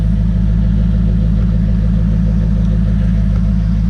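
A 2001 Corvette Z06 with a six-speed and Borla exhaust idles close by, a loud, deep, steady burbling rumble with an even low pulse throughout and no talking.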